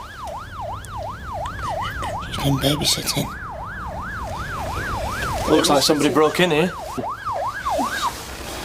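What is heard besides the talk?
ambulance siren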